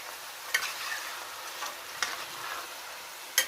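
Khand pare sizzling in hot oil while being stirred, a steady close hiss of frying broken by a few sharp clicks of the spoon against the pan, with no talking.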